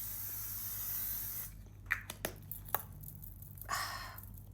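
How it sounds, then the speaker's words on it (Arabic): A facial serum spray misted onto the face during makeup, heard as a steady hiss that stops, then a few soft taps and a short second spray burst, close and quiet. "بعدين دالبا سبراي سيروم"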